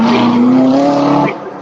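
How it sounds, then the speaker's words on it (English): A powerful car engine revs loudly and steadily with a sustained harmonic roar, holding high for over a second before dropping away abruptly. "Sounded like a really nice car."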